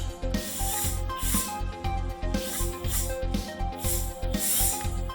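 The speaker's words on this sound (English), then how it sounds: "Drill some ventilation holes over the mouth and nose if you like to breathe." A drill bores ventilation holes into a homemade Peter B. Parker face shell, giving close repeated bursts of rasping, whirring grind separated by short pauses.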